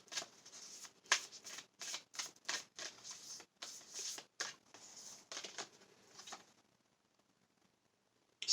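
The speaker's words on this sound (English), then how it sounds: "I'm just going to pick a couple of more manifestation cards." Manifestation cards being shuffled, a quick run of soft papery riffling bursts close by for several seconds before trailing off into near silence.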